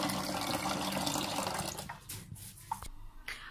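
Tap water pours steadily into a cooking pot on the stove for boiling vegetables, a broad continuous splash for about two seconds before cutting off, then a few faint clinks and drips.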